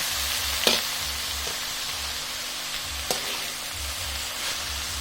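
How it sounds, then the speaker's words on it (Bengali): Red amaranth greens are stirred and fried in a pan over full heat, with a steady close sizzling hiss and a few sharp scraping knocks from the stirring. "শাকগুলো দিয়ে দিচ্ছি। এটাকে ভালোভাবে নেড়ে দিব।"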